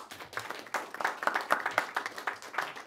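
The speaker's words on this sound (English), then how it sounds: "Give yourself a round of applause" A small event audience claps for themselves and the hosts: a thin, fairly sparse scattering of hand claps in uneven bursts, soft and somewhat distant, with no talking over it.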